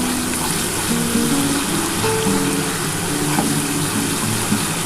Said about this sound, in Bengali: যতক্ষণ না মশলাটি থেকে তেল ছেড়ে ছেড়ে আসে ততক্ষণ কিন্তু মশলাটা কষিয়ে তোমরাও কষাবে ভালো করে আমিও কষিয়ে নিচ্ছি